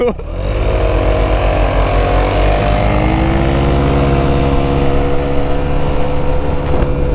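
A new motorcycle's engine revs hard at full throttle, a loud, close, continuous roar with rising harmonic pitch as it accelerates, holding strong throughout.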